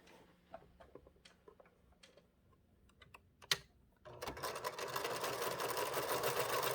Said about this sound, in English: now we're going to stitch our scant 1/4 inch on either side of the line